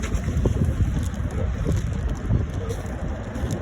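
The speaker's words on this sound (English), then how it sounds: "the wind blowing the bag." Wind gusts against a plastic fish bag beside a pond, a continuous close, rumbling buffet with rustling flutters and no voices.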